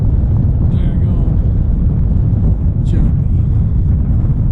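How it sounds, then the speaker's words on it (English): Wind gusting over a river at a haunted location in the Tri-Cities area of Tennessee, a steady heavy rumble and buffeting across the mic throughout, loud and continuous with no clear pauses. "It's a windy day. Over the river."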